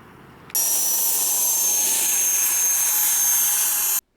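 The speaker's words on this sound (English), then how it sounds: "it became possible to land the Harrier super precise just at the beginning of the concrete" A model RC Sea Harrier jet comes in to land on concrete, its turbine a loud, steady high-pitched whine that starts abruptly and holds for several seconds before cutting off.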